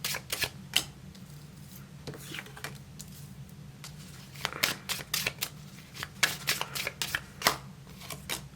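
Tarot cards shuffled by hand during a pick-a-card reading, a run of quick riffling bursts and soft flicks, with a low steady hum underneath and no talking.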